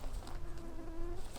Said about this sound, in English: Oh, the mosquitoes are ferocious right now.